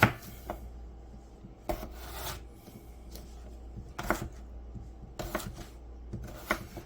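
Knife chopping potatoes into cubes on a cutting board, a handful of sharp, close knocks spaced irregularly with soft scraping between them.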